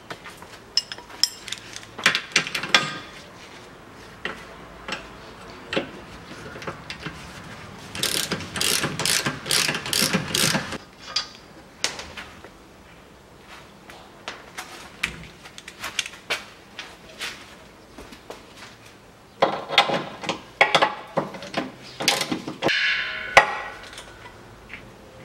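A ratchet wrench removes bolts from the rear suspension lower arm of a 2.4 Citroen C-Crosser, giving close, repeated bursts of ratcheting clicks with mechanical knocks between them.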